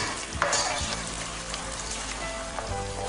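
Onions fry with a spoonful of tomato paste as a spoon stirs them around the pan, producing a dense close sizzle broken by occasional scraping knocks.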